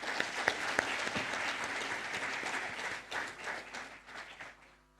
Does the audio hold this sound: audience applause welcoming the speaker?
yes